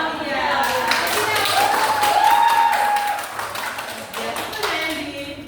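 A classroom clapping for a student: a group of students clap in quick, somewhat ragged rhythm that thins toward the end, with voices heard beneath and over the applause.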